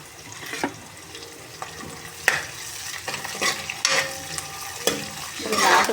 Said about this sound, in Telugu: ఇలా ఒక 2 మినిట్స్ అలా ఫ్రై చేసుకోవాలి.